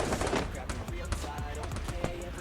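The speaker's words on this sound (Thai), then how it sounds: "มันยิงกับอีกตีหนึ่งอยู่นะครับผม" Rapid bursts of gunfire between squads in the shooter game Free Fire, a steady run of sharp clustered shots with a few louder cracks, heard under faint talk.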